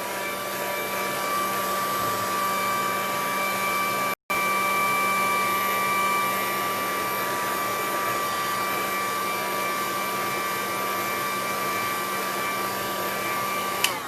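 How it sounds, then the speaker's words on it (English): A heat tool blows steadily while drying decoupage work on an MDF board, a loud continuous whir with a faint whine that cuts out briefly once, then runs on unbroken to the end. "now I'll just dry this little bit, so you have to hear a little bit of noise"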